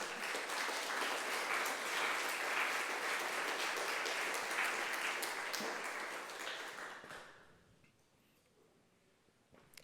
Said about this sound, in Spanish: brindémosle al Señor una ofrenda de palmas